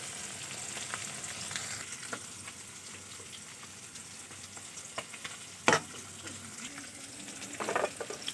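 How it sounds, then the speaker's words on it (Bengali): Fish frying in a pan in a home kitchen, a soft continuous sizzle with light crackles and the occasional sharp clatter of stirring, fairly quiet and close. "মাছ ভাজা হচ্ছে।"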